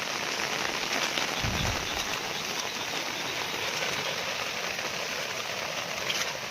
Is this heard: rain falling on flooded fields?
yes